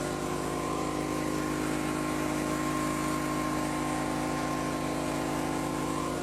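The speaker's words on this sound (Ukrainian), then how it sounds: "Ось генератор зараз покажу вам" A power generator drones steadily nearby, a constant low mechanical hum with a fixed pitch and no variation, running alone without voices.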